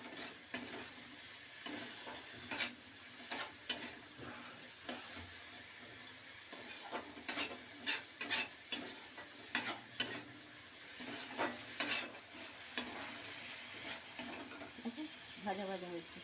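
Malabar spinach greens with shrimp and spices are stir-fried in a pan, a steady hiss of sizzling oil broken by repeated sharp scrapes and clatters of a spatula against the pan.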